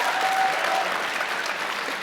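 A university talk audience breaks into steady, dense applause that holds at an even level the whole time with no pause.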